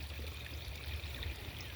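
Non-chlorinated garden water pours steadily into a bucket of comfrey, a faint, continuous splashing and trickling stream that lasts the whole short moment.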